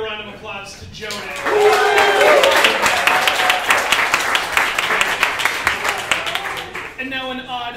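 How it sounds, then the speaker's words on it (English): Audience at a comedy improv show bursts into a sustained round of applause and clapping lasting several seconds, with cheering voices mixed in and a host's voice briefly audible before and after. "I want everyone to give a round of applause to Jonah"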